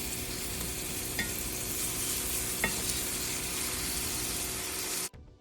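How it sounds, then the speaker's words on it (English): A loud, steady sizzle of steak searing in butter in a hot skillet, crackling and spitting continuously before cutting off abruptly. "And after, you want to add your steak, okay? And you want to make sure the steak sounds like this."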